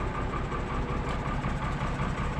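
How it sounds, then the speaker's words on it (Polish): A farm tractor engine pulls away, producing a low, continuous, fairly close rumble with a slightly uneven throb. "Teraz odjedź ciągnikiem."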